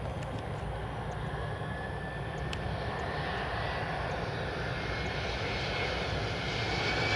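American Airlines Boeing 777 on final approach to Miami: a steady, loud jet engine roar with a faint rising whine, continuous and unbroken with no talk.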